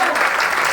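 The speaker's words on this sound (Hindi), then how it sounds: "पर तालियां बजा दीजिए जोरदार।" A short burst of dense audience clapping at a marketing plan seminar, loud and close, filling the whole moment with a steady roar of hands.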